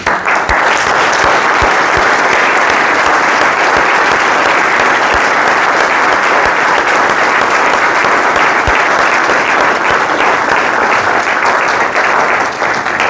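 Sustained applause and acclamation from mourners at a funeral ceremony in Brussels, a dense, loud, even wash of clapping that holds steady throughout with no talk over it.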